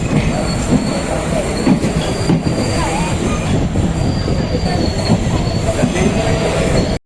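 Train at Ottapalam railway station in Kerala, a loud continuous roar of rolling wagons with thin metallic wheel squeal drawn out over it, close and steady until it cuts off at the end.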